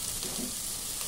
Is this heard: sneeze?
no